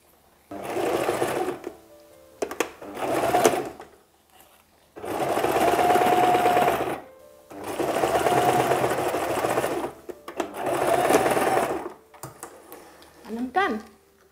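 A sewing machine stitches bias tape onto the neckline of a Buba blouse in several long, steady whirring runs separated by short pauses, with light clicks and handling noises between bursts.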